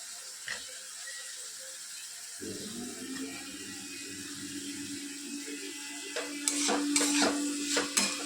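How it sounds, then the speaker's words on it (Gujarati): Bitter gourd pieces drop into a pan of oil and are stirred without water, bringing a sudden soft sizzle that settles into a steady hiss, followed by scraping stirs near the end. "હવે આપણે કારેલા નાખી દઈશું."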